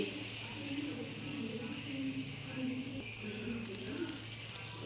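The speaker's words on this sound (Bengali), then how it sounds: "এগুলো সব ভেজে নেবো।" Semolina and flour malpua batter frying in hot oil gives a steady, even sizzle throughout, with a low hum underneath. Faint bubbling rises and falls within the sizzle.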